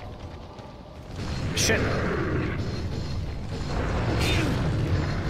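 Grenade explosion in Resident Evil 4, a broad booming burst followed by a second blast a few seconds later, set under a cluttered game soundscape with a voice swearing loudly.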